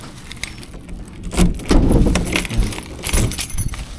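Bunch of keys jangling and clinking close by in a town setting in Coron, Philippines, with bursts of rattling over faint background noise and no talking.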